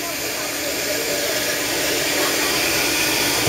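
A blender runs steadily while juicing, a loud continuous whirring roar with a high hiss that holds the same level throughout.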